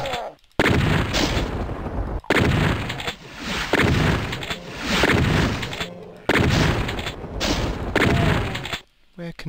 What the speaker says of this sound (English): Here come the chain gunners.